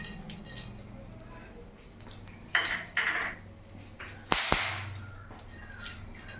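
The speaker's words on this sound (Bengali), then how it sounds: "গোটা গরম মশলা ফোড়নে দিয়ে দিলাম" Whole garam masala spices dropped into hot oil left over from frying eggplant, giving a few quick sizzling bursts and light metallic clinks against the pan over a low steady background hiss.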